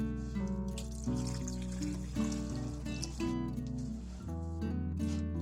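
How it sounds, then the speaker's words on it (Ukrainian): Brine pours steadily and fairly close over tomatoes in a jar, a continuous trickling splash, with a steady tonal hum underneath and no talking. "Тепер цим розсолом заливаємо наші помідори."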